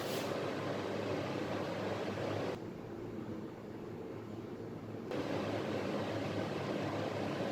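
A cheaper, non-Stanley construction-site fan heater runs with a steady broadband whoosh and low hum, close and even, with a brief softer stretch in the middle.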